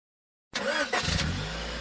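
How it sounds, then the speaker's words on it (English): Car engine starting and revving, a sudden loud roar that surges once, then settles into a steady idle, close and alone. "Hey, check out my new car."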